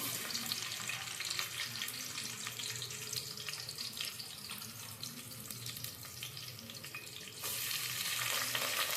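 Onion, added with green chillies, fries in hot oil, a dense crackling sizzle that runs steadily throughout and grows louder near the end, close up and without speech.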